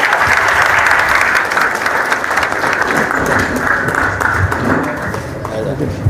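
Sustained applause from an audience at a hospital management event, dense and steady throughout at close range, with a faint voice sometimes audible beneath the clapping.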